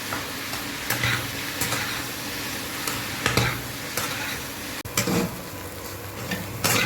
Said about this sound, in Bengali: এখন এটাকে আমি ভালো করে ভাজা ভাজা করবো।